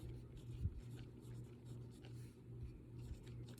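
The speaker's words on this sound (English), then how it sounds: "I'm going to actually write the word again." Pen or pencil writing a word by hand on paper during an elementary school lesson, faint scratchy strokes in a quiet room under a low steady hum.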